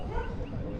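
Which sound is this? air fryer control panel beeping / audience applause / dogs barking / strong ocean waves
dogs barking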